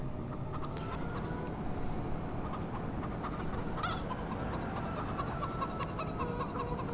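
Chickens clucking in a farming video game, several short bird calls scattered over a steady low background hum, fairly faint and without talk.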